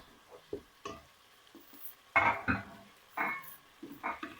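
Masala for a potato and aubergine bharta is stirred as it fries in a pan. The sound is quiet and sparse: intermittent scraping strokes and soft bursts of sizzle with near-silent gaps between them.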